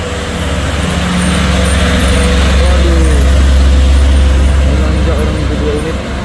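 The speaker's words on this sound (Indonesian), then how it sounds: "Oh ya, mantap juga ini truk sayur." A heavy vegetable truck's engine drones loudly and steadily as it climbs the Bukit Kodok hill, rising and holding with a strained low roar, close by with traffic noise around it.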